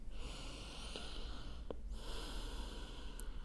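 During a balancing vinyasa yoga class focused on hips and hamstrings, close, soft breathing is heard: a couple of sharp nasal inhales or snorts stand out over a steady, airy hiss, with no talking.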